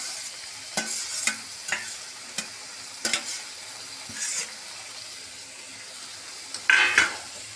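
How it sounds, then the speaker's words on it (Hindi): Chunks of jackfruit tumble into fried, roasted masala in a pan, followed by a series of scraping stirs and clinks of the spoon against the pot over a soft sizzle, ending in a louder, sharper burst of frying near the close. "ये देखिए ये हमारा मसाला भुन गया, अब इसमें हम कटहल ऐड कर देंगे"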